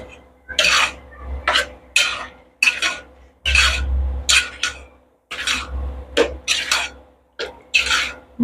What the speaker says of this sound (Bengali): ভালো করে মশলার সাথে মিক্সড করে দিচ্ছি নেড়ে চেড়ে।